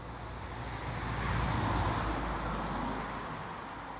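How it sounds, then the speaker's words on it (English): A car on the main road over a bridge across the Leeds-Liverpool Canal near East Marton swells out of faint background road noise, grows louder, then fades into a soft, distant roar. "And here comes a car."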